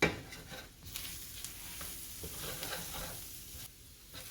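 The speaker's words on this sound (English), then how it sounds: "We're going to add in our flour a little at a time. And create a roux." Flour being stirred into melted butter to make a roux, a soft continuous sizzle with scraping stir strokes close by, steady and fairly quiet, with no talking.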